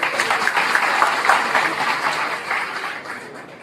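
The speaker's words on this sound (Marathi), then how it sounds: "मी माझ्या सर्व समाज बांधवांना विनंती करतो की एकदा यांच्यासाठी जोरदार टाळ्या वाजवायच्या" An audience at a community honouring event gives loud, sustained applause, a dense steady clatter of many hands that holds for several seconds before easing slightly at the end.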